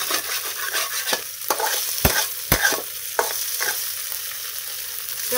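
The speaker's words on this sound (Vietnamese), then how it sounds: "Mình sẽ cho tỏi vô chảo rồi xào lên cho nó thơm." Garlic and fried tofu stir-frying in a hot pan, a continuous bright sizzle punctuated by several sharp scrapes and clinks of a utensil stirring, close and loud with no talking.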